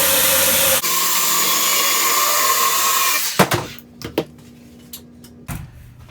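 Chainsaw, a Stihl, cutting knots out of a dry wood blank for a food-grade woodturning piece, running loud and steady for about three seconds before cutting off, followed by a few scattered knocks and handling sounds.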